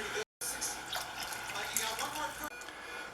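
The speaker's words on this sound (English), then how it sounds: "I'll rinse each can of these with water, maybe about a quarter of a can or a third of a can at the most." Tap water runs into and swirls around emptied bean cans being rinsed for a three-bean chili, a continuous close splashing gush with one brief cutoff near the start.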